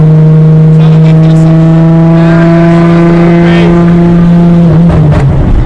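A loud Nissan 350Z engine drones and revs steadily, with a crackle of exhaust pops near the end as the pitch drops.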